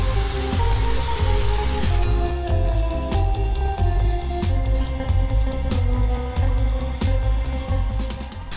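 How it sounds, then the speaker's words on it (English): Raptor 1K Pro Enamel Diamond Clear Coat sprayed onto a wooden motorcycle side cover: a hissing aerosol burst for about two seconds, followed by lighter spray hiss and clicks over a low rumbling background. "So this time I'm using Raptor 1K Pro Enamel Diamond Clear Coat."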